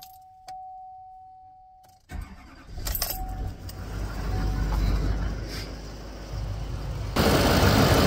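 A 2013 Chevy 6.6L Duramax diesel truck engine, after an alternator replacement, cranks, sputters and catches, then settles into a loud, rough rumbling idle that grows louder, preceded by a faint hum and a few clicks.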